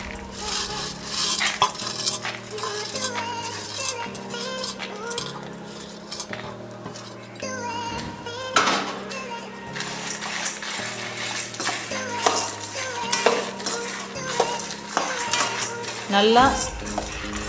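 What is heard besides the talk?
roasting chana dal, urad dal and dried chillies, stirring in pan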